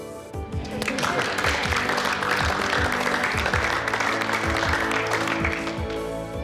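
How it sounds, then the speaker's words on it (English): Weight-loss contestants on a reality competition show applauding themselves after a group weigh-in, a sustained round of clapping over a low musical bed, the room full and steady from start to finish. "Give yourselves a round of applause."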